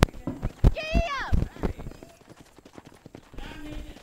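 Horses galloping in Red Dead Redemption, rhythmic hoof clip-clops close by with a horse's whinny early on, while people talk over them.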